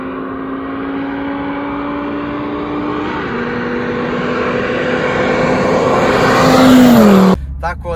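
A Mercedes 190 Super Turbo diesel with a new aftermarket exhaust drones loudly and close, its engine note held steady and then rising as revs climb before cutting off abruptly near the end.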